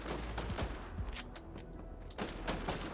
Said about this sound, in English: Oh, they're shooting up here.